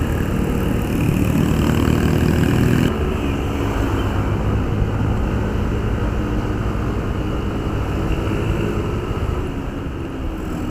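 A Yamaha Aerox 155 (2020) sport scooter engine runs steadily in a continuous mid-pitched drone, loud and close. The tone shifts slightly early on and then holds fairly even, with no voices.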